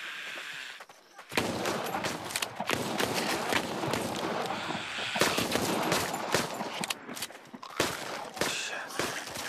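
Rapid gunfire from the Arizona Sunshine video game rattles in quick, dense bursts after a brief quiet start, loud and close, with short gaps between volleys and no talking over it.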